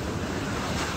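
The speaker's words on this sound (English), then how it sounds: "I'm in the ocean." Ocean waves and wind at sea roar as a dense, loud, unbroken wash of noise, with gusts buffeting close to the microphone and no voices.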